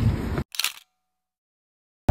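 A DIY Advent calendar film camera fires its shutter once, a short sharp mechanical click followed by silence, after a brief burst of close handling noise.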